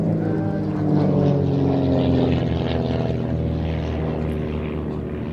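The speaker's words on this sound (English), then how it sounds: "As Helen described, it's like flying that formation around" Propeller aircraft fly a formation display at the Midlands Air Festival at Ragley Hall, near Stratford-upon-Avon. Their loud, steady droning engines fill the air continuously, then cut off abruptly at the end.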